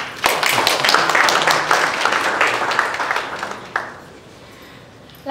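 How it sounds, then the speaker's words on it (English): An audience at a democracy group's launch event applauds a young girl named Alejandra, with loud, full crowd clapping that swells then fades out abruptly, leaving quiet room tone. "you all can feel free to applaud young Alejandra"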